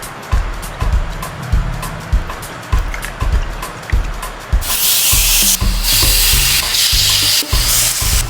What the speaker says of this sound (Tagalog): Pagsasamahin na natin ang ating mga ingredients.